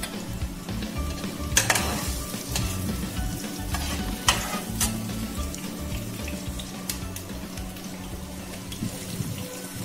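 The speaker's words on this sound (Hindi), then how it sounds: "हुण कढ़ाई विच प्याज ऐड करके उन्हें भुनांगे थोड़ा जिहा।" Onions fry in a kadhai with a continuous sizzle, punctuated by a few sharp scrapes and clinks of stirring, near and moderately loud, without speech.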